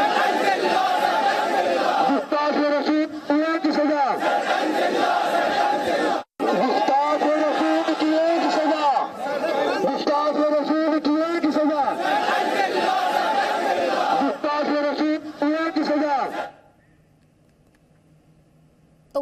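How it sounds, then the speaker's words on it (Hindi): A large crowd at a rally chants a slogan back after a leader, heard as a played-back recording: loud, dense massed voices shouting in repeated waves, cutting off abruptly near the end. "तो गोहर चिश्ती नारा लगाते हैं, उसके बाद पूरी भीड़ वो नारा लगाती है।"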